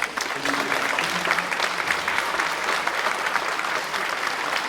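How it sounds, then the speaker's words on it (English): An audience at a school spring band concert claps in a loud, dense, sustained round of applause with scattered voices and cheers mixed in. "another round of applause"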